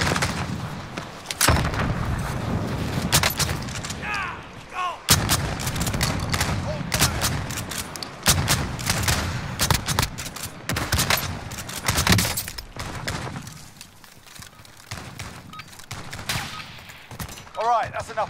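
Heavy gunfire in Call of Duty: Modern Warfare, with dense fusillades, rapid bursts and booming shots repeating nearly throughout, loud and close, mixed with voices from the game.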